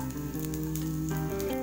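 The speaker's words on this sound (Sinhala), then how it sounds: "මම විතර අඩු කරලා මේක මේ තෙල් චුට්ටක් බැද ගන්නවා" Chopped garlic and chili fry in a little oil in a saucepan, giving off a soft, steady, close sizzle with no talk.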